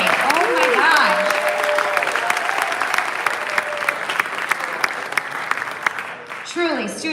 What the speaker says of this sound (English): Let's give one more round of applause for our incredible students today.